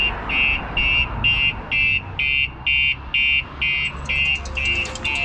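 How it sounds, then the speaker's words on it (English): A StarLine S96 alarm fitted to a 2023 Lexus RX500h sounds a loud, steady run of about ten evenly spaced electronic beeps, each a short sharp tone with brief gaps, heard alone with no talk. "it will set the alarm off."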